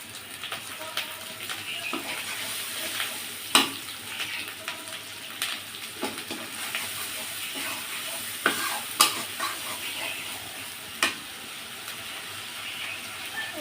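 Onions fry in a pan with a spice mix of cumin paste, coriander powder and dried chili powder while being stirred. A steady close sizzle runs throughout, broken by irregular sharp scraping clicks from the stirring.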